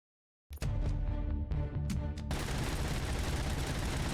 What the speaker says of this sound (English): We have full auto, piercing, infinite ammo, pellet exploding rounds.